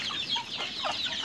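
Chickens cluck continuously at close range, several birds overlapping in busy, chattering bursts with no pauses.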